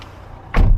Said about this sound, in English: Doors all of course shut with a proper thud